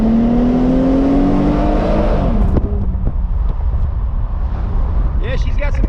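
A 2001 Plymouth Prowler roadster accelerating hard, its engine note climbing steadily and loud up close before easing off after a couple of seconds into lower road rumble, with a voice briefly heard.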